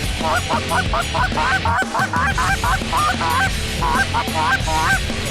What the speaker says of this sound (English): Guys, there's geese off to our left.